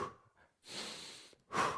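Two slow breaths, a soft inhale drawn in through the nose and a longer, breathy exhale pushed out through the mouth, close and fairly quiet, separated by a short pause, during a conscious breathing exercise.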